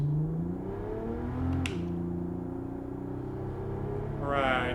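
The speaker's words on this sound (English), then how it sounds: "It really sounds like a real car" Car engine idling and rolling at low revs in the racing game Gran Turismo 7, a steady low hum with a slight rise near the end.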